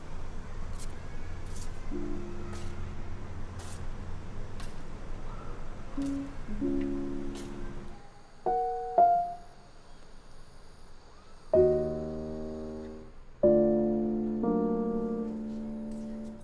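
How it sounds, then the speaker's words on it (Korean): Hesitant piano notes and chords played haltingly from a neighboring home through an open door, with pauses between phrases, heard faintly at first over quiet background noise, then louder and closer. "문이 열려있는 옆집에서 들리는 어설픈 피아노 소리"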